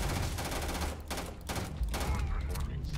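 Rapid gunfire from a weapon in Starfield, dense bursts of shots pounding almost continuously with brief gaps, loud and close, with combat noise around it.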